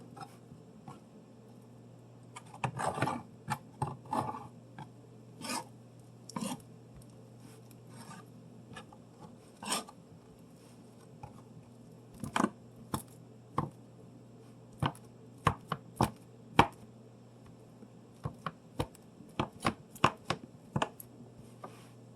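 Crunchy taco shells are crumbled by hand over a bowl of beefy taco soup, giving sharp, dry crackles in scattered bursts and quick clusters. They are close but fairly quiet against a faint background hum.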